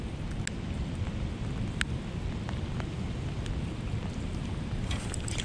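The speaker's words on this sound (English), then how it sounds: "It's raining, but it ain't raining too bad." Rain falls steadily during an outdoor fishing trip for crappie, a dense even patter with a few sharper drops close by and no talking.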